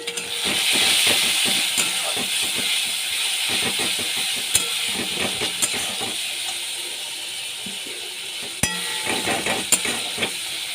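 Ground spices with salt, turmeric, coriander and cumin fry in a pan for a Bengali katla fish curry, a steady sizzle broken by repeated scraping and clinking of a spatula stirring against the metal.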